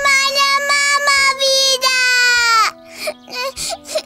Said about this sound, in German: warum weinst du denn so?